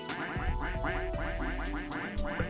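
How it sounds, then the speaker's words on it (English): Repeated cartoonish duck quacks from the video game Digimon Story Cyber Sleuth, a steady run of loud, close nasal calls that continue over a low hum with no talking. "Do we want ducks?"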